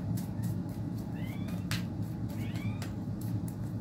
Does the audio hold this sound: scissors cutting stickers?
no